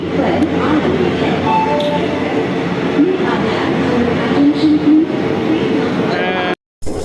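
A passenger train rumbles steadily nearby with a broad rolling noise and faint squeals. Voices talk intermittently over the rumble, and the sound cuts out briefly near the end.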